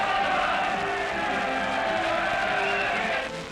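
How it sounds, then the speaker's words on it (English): A throng in a Sicilian town, joined by the Italian garrison, cheers arriving American troops in 1943, a steady distant crowd roar with scattered shouts, heard on an old newsreel soundtrack. "the Italian garrison joined the throng cheering the Americans"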